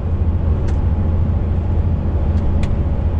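Heavy loaded truck rolling down a steep grade in a low gear, its diesel engine held at high revs after a downshift to eighth, giving a steady loud drone and rumble with road noise and no talk.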